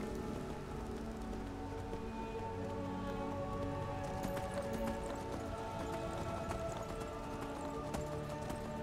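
Steady clip-clop of horse hooves in the game Skyrim, a continuous brisk rhythm over a constant background hiss, fairly close throughout.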